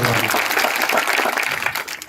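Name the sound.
audience clapping loudly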